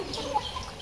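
A brief, faint turkey gobble from a farm flock of large and young turkeys, the birds wet from rain, heard once against low background noise.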